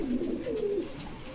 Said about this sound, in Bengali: এগুলো হলো খয়রা কোবরা কবুতর।